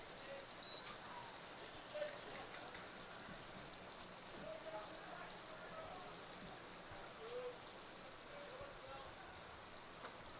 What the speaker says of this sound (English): we can see the rain now coming off the roof here at our Simon Field press box